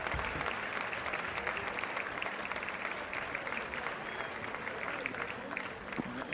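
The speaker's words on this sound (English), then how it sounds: "The home team crowd giving the away team a nice ovation as the player leaves the field" A home crowd at a Ball State versus Akron college football game applauds a visiting player as he leaves the field, with dense, steady stadium-wide clapping and cheering that holds for several seconds.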